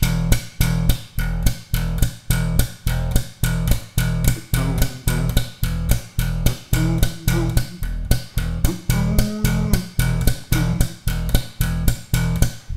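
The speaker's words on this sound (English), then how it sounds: "Another way of playing a groovy bass line just with your thumb, just on root notes." Slap bass played with the thumb alone, thumping root notes on the offbeats in a steady funk pattern; punchy, evenly spaced plucks ring loud and close with no talking.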